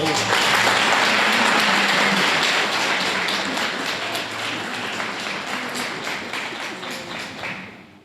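Sustained applause from a crowd at an installation ceremony, dense and steady, slowly fading toward the end.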